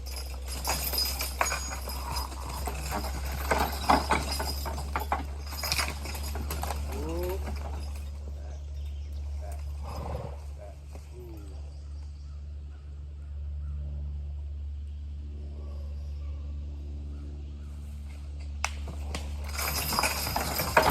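A team of horses pulls a heavy load outdoors, hooves clopping faintly under steady rumbling background noise, with occasional bird coos and brief voices.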